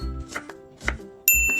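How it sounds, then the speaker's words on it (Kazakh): A knife chops onion on a cutting board: three crisp thuds at an even, unhurried pace, close and clear, with a bright ringing tone near the end. "Ең алдымен пиязды турап аламыз."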